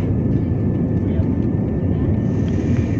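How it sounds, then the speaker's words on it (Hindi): A passenger airplane on a flight from Bhubaneswar to New Delhi roars steadily as it speeds down the runway for takeoff, heard from inside the cabin as a loud, constant engine rumble with a faint high whine. "विमानटी रनवे रे खूब जोर रे दौड़िया को लगला"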